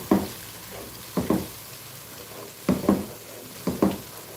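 Ginger garlic paste sautéing in a pan for Omani chicken kabsa: a soft, low sizzle under repeated scraping and stirring strokes that come in short clustered bursts, fairly close with no voices.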